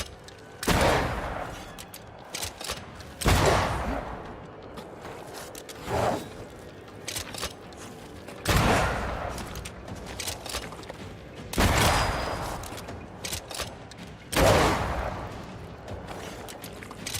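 Gunfire in the video game Banishers: Ghosts of New Eden, six sharp shots spaced a few seconds apart, each a loud crack with a short decaying tail over quiet game ambience.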